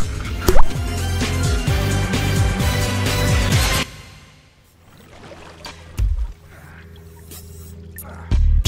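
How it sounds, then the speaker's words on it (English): A character in The Evil Within plunges into water, with watery splashes and drips following a loud, busy stretch that drops away, then brief plops returning near the end. "So we jump into the water"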